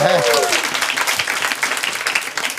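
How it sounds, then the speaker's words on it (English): An audience bursts into sustained, dense clapping and cheering at a charity auction event, loud and close throughout, with a brief voice at the very start before the applause fills the room. "can we get a round of applause for that?"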